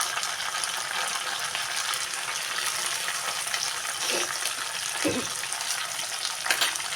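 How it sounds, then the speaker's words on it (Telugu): Tomatoes tipped into a pan of frying onions, giving a steady wet sizzle throughout with a few soft clatters and stirring knocks near the end. "ఇప్పుడైతే టమాటాలు అయితే వేసేసుకుంటున్నాను."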